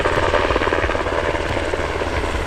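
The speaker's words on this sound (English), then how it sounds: "This is the UH-60 Black Hawk, a versatile utility helicopter used for troop transport, rescue, evacuation, and combat support." A UH-60 Black Hawk military utility helicopter flies steadily, its rotor thumping in a fast, even beat over a continuous engine roar that stays loud throughout.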